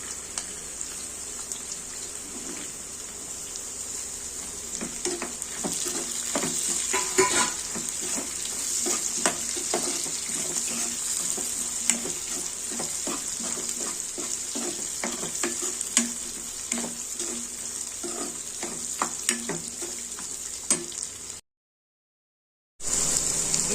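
Peanuts, green chillies and curry leaves sizzle and crackle steadily in hot oil in a pan for tamarind pulihora, with close popping bursts throughout and a brief drop to silence near the end.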